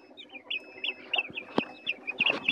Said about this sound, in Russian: Ну вот цыплятки, все вот эти вот черные, вывелись вчера